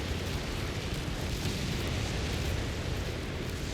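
Stuka dive bomber strike in Company of Heroes 3 on the Sousse Wetlands map, a dense, roaring wash of explosion noise that stays loud and unbroken throughout, with no clear separate blasts.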